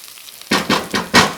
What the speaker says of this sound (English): We don't want to burn the garlic, so make sure your pan is not too hot